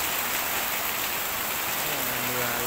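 Heavy, steady rain pours down in a countryside village, a dense continuous hiss of water on surfaces filling the whole clip at an even level, with a few faint low tones near the end.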